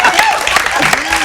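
A live talk-show studio audience applauds in a short, lively burst, with a voice speaking over the clapping.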